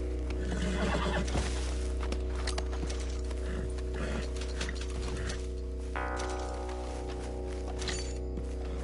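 A horse whinnies loudly several times over a steady low hum, with a few soft hoof clip-clops and thunks mixed in at close range.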